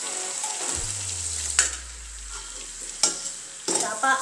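Food frying in ghee for veg pulao, a soft continuous sizzle near the pan broken by a few sharp spoon scrapes and stirring clatters, with a low hum in the background.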